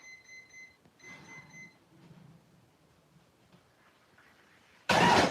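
A kitchen oven timer beeps in two short bursts of rapid high beeps, fairly faint, followed by quiet kitchen movement and then a sudden loud rushing noise at the end.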